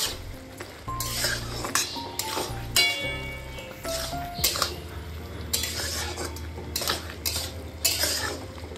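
A spoon or spatula scrapes and clinks repeatedly against a pan while scrambled egg and malabar spinach are stirred, the metallic knocks coming in an irregular rhythm over a faint sizzle, close and fairly loud.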